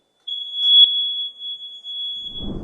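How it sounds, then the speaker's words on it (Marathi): A single long, steady high-pitched electronic beep from a voting machine sounds loud and close, holding for over two seconds before a faint rustle at the end. "त्याचबरोबर बीपचा आवाज येईल"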